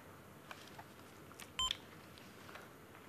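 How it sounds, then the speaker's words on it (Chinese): A telephone call-waiting beep signals an incoming call on a landline in a 1995 Cantonese TV sitcom scene: one short, faint electronic tone sounds briefly over a quiet room background. "你等等有電話入啊"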